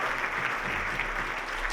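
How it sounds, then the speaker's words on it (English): Steady, full audience applause at a county conference center event, continuous dense clapping from a large crowd with no talk. "Let's give them a great round of applause."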